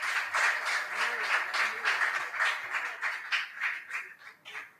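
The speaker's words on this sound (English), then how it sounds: "A round of applause for them." Audience applause at a school quiz competition, a crowd clapping with a loose pulsing rhythm that thins out toward the end, with faint voices underneath.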